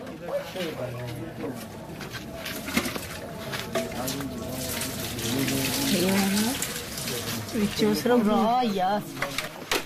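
Running water from a tap at a Sufi shrine in Pakistan, steady and moderately loud throughout, with pigeons cooing nearby and people talking over it.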